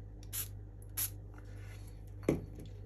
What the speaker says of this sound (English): I might spray it a little just to get it activated again